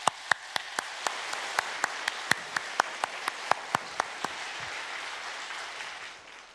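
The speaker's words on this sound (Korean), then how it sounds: "다시 한번 뜨거운 박수로 이은상 목사님 맞겠습니다" A Korean church congregation at a summer retreat in Queens warmly applauds to welcome a pastor, a dense wash of clapping with sharp, evenly spaced claps that fade out toward the end.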